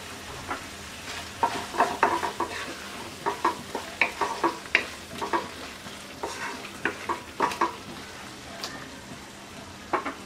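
Potato and spinach curry (alu palong) cooks in a pan with ghee. Repeated scraping stirs sound close over a soft, steady sizzle, with no one talking.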